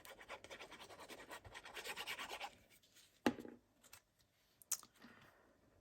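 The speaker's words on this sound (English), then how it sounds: "let me give that a little bit of a burnish" Soft rubbing and scraping of a burnishing tool over glued paper on a small treat box, in quiet uneven strokes with a few sharp clicks and taps in between.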